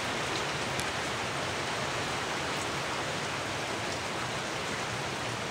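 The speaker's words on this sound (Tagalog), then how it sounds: "Ay, umuulan." Steady rain pours down outdoors in a loud, unbroken hiss that fills the whole clip, with no voices over it.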